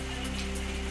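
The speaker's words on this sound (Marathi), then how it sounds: "लातूरच्या अनेक भागांमध्ये वादळी वाऱ्यासह गारांचा पाऊस" Steady dense rain from a hailstorm with strong winds over parts of Latur, a continuous even hiss of drops on surfaces without pause.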